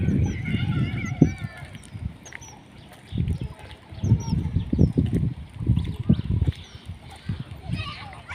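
A flock of ducks honks repeatedly in loud, uneven bursts close by, with voices talking over them now and then.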